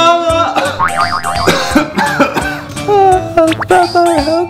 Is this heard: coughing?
yes